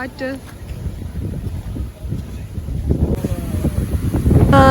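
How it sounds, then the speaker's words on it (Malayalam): Strong wind blowing at the Nelliyampathy viewpoint in Palakkad buffets the microphone with a continuous low roar that swells louder toward the end; a voice is faintly audible in places. "നിങ്ങൾക്ക് കേൾക്കാൻ പറ്റും, ഇത് കാറ്റിൻ്റെ തന്നെ ശബ്ദമാണ് കേട്ടോ"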